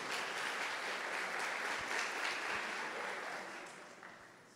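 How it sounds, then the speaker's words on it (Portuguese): A church congregation gives a round of applause for the young people heading to World Youth Day in Lisbon, a steady, fairly distant wash of clapping that fades gradually toward the end. "Vamos dar uma salva de palmas para eles aí"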